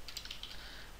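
Keystrokes on a computer keyboard while entering values into an Excel spreadsheet, a short run of quick, light clicks close to the microphone with no speech.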